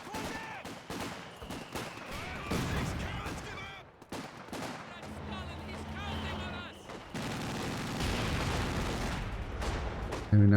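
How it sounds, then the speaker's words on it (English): A Soviet mortar fires during a competitive real-time strategy video game match, its blasts mixed with a busy din of rapid gunfire and explosions that carries on steadily throughout. "Very nice mortar shot."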